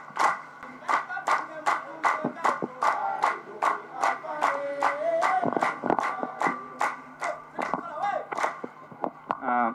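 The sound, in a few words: audience applause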